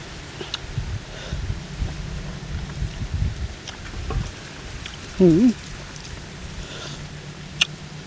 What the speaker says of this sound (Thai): โอ้ เสียงลมคือขักแท้ขักขัก